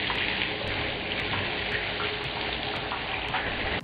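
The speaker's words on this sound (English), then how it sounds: "you want to start off, take them and give them a nice rinse." Organic lemons are rinsed under a running kitchen tap, a steady close gush of water with faint spatter, no voices.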